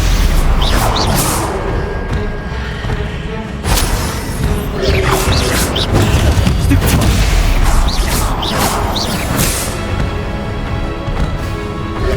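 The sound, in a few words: Stupefy spell cast in video game Hogwarts Legacy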